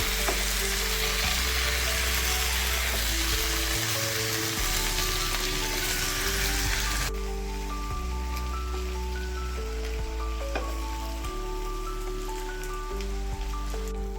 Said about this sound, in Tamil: நான் மீடியம் சைஸில் மூணு தக்காளி சேர்க்க போகிறேன் இதுவும் நல்லா வதங்கட்டும்